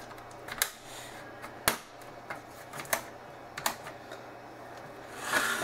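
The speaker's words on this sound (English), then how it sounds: "unclip the keyboard" A plastic pry tool unclipping the keyboard of a Samsung NP355V5C laptop, giving a series of sharp plastic clicks and snaps at irregular intervals over a quiet background.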